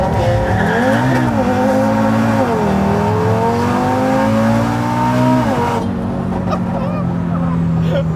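A 780 hp Audi RS3 launches hard with wheel spin, its engine rising in pitch through gear changes against a loud tyre roar. It is heard close from inside the car.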